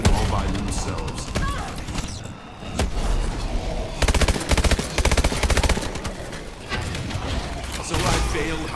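Video game gunfire: bursts of rapid automatic shots and heavier single blasts crackle amid chaotic combat noise, with a voice partly talking over the loudest stretches.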